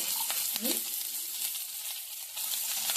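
Loud, dense sizzling of mustard seeds, cumin, curry leaves and green chillies in hot oil, crackling continuously up close with a brief stir near the start.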